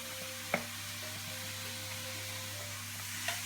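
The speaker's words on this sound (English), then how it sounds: "You're going to have to stir your onions every now and then." Onions and garlic fry in a pan with a steady, soft sizzle. Two sharp clinks of a utensil against the pan break through as the mixture is stirred.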